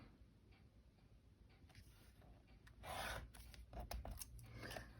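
Scissors trimming small bits off a paper craft piece, quiet rasping snips and rustles that grow denser and louder in the second half, close and faint, with no speech.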